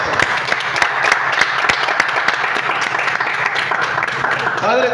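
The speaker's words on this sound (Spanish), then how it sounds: "Aplaudimos al Señor." A church congregation applauds together, a dense, steady burst of many hands clapping that fills the whole stretch at fairly high volume, with a voice briefly audible near the end.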